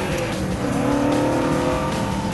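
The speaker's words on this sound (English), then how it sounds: "Give it a little throttle steer, a little throttle on the downshift, pick up the gas on the way out." A Boss 302 Mustang accelerates hard out of a corner on track, its engine note a continuous loud roar with rising harmonic tones and a hint of tire noise, no voices over it.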